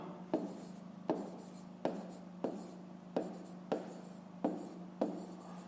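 Chalk or pen strokes writing out a fifth-grade maths solution on a board, a steady series of about eight sharp taps with short scratchy tails, close and fairly quiet over a low steady hum, with no talk.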